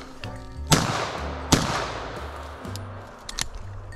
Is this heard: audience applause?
no